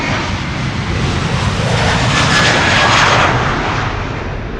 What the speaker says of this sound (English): another United 767 is coming this way to take off to IH